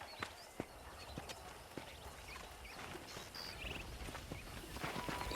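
Horse hooves clip-clop at a walking pace in the video game Red Dead Redemption, a run of close, fairly faint hoof strikes over soft ambient outdoor noise with a few brief bird chirps.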